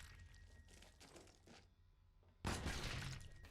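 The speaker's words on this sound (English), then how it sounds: "Oh, that explosion's massive." A sudden, loud explosion bursts in the video game Void Bastards after quieter crackling, its crunching, shattering roar filling the final second.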